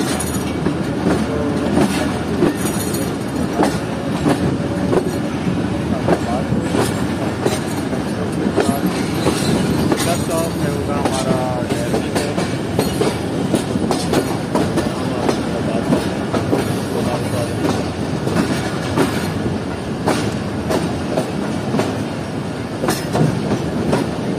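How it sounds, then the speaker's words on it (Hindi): Baba Fareed Express passenger train running overnight between Rahim Yar Khan and Karachi, a steady loud rumble with rhythmic clickety-clack of wheels on rail joints throughout, heard from inside the moving carriage, no voices. "और अब हमारी ट्रेन आगे बढ़ रही है अपने नेक्स्ट स्टॉप यानी कि ढहरकी रेलवे स्टेशन की तरफ।"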